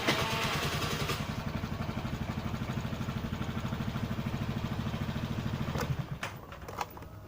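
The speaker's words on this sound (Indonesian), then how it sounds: "Oke, sepeda motor sudah nyala" A carbureted Honda Vario motorcycle engine fires up and runs with a steady, rapid mechanical chatter near the microphone, then the revs dip and a few clanks sound toward the end.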